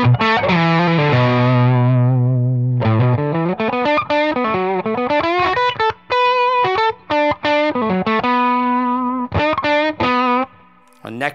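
A PRS McCarty 594 Soapbar electric guitar played through distortion on its neck soapbar pickup with the volume rolled back slightly, sustained chords then quick picked lines, loud and close with no talking.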